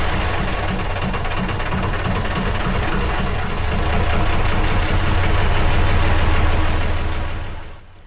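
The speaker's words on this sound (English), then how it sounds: "as I take revs off the engine using the wheel at the stern, it closes" Diesel engine of a narrowboat idling in its engine room on a canal, a loud, steady mechanical chugging with a low throb that holds even before cutting off at the end.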